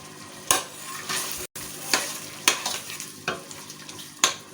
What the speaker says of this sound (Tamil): இப்போ வெங்காயம் நல்லா கொஞ்சம் வதங்கிருச்சு.